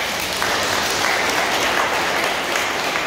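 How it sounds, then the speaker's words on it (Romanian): An audience applauds at a Romanian sports event, a continuous, even wash of clapping throughout with no voices. "Vă rog să o aplaudați!"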